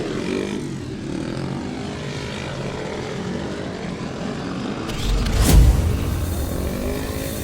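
Speedway motorcycles coming onto the track at a Plymouth Gladiators versus Scunthorpe Scorpions KO Cup meeting, a steady rumbling engine drone that swells louder for a moment partway through, with no talking.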